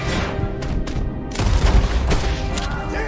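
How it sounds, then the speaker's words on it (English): A volley of gunshots rings out in Red Dead Redemption 2, several heavy booming reports in quick, uneven succession, loud and close, with no talking. "Shot that man at least six times."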